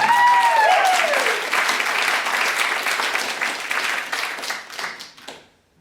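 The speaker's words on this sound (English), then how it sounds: "Round of applause for yourself" Audience at a live comedy show breaks into loud applause with a brief whoop at the start, the clapping holding steady and then thinning out and fading to silence near the end.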